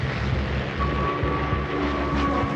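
Heavy, continuous droning of WWII Luftwaffe aircraft engines as German planes fly toward the Kent coast, loud and steady throughout with no voices.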